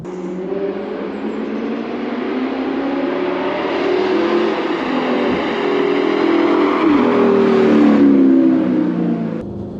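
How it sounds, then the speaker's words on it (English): An Audi R8 V8 manual sports car engine revs hard and climbs to a high-pitched scream, loud and sustained for several seconds with no voices. "it finishes off as a screaming, high revving, almost sort of F1-esque."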